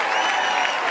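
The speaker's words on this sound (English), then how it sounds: "Give them a real 5 Links round of applause to all the new family members getting started." Audience applause at a company business event, a dense, steady wash of clapping from a large crowd welcoming new members on stage, loud and continuous throughout.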